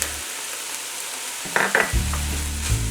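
Garlic dropped into a hot oiled pan with onions bursts into a loud sizzle midway, followed by stirring scrapes and continued frying, no talk.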